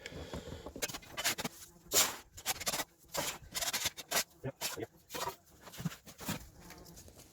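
Caked dry dirt scratched out of a dry creek crevice with hand tools, a close series of irregular rasping, scraping strokes with short pauses between them.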